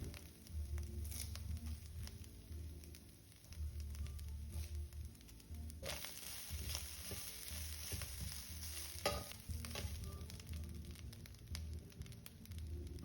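Mustard seeds, cumin and urad dal crackle and fry in hot oil in a pan for a Kerala Onam sadhya koottu curry, giving a steady close sizzle with occasional stirring scrapes that get louder midway.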